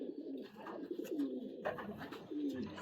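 Several racing pigeons cooing close by in a loft, low throaty rolling coos repeating in overlapping phrases with soft rustling between them.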